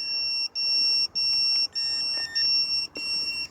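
A drone's alarm beeping steadily, a high bright tone repeating about every half second with short gaps, loud and close, with no voices.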